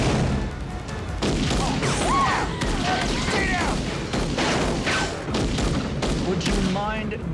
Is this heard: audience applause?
no